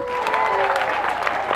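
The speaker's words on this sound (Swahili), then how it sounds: "Tumpigie makofi." A church gathering claps in a brief, dense burst of applause, with a voice audible over it.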